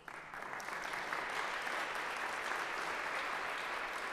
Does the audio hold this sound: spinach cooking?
no